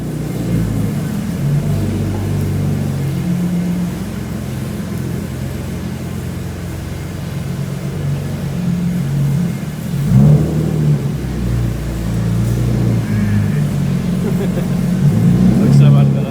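Nissan R34 Skyline with lowered suspension idling with a steady low rumble, swelling into brief revs near the middle and end, loud and close, with voices talking over it.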